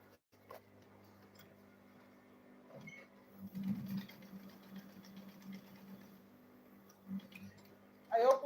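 A sewing machine stitches the lining of a double-zip lunch bag, quiet intermittent motor whirring and needle ticking in short runs, with faint handling noises and a brief voice at the end.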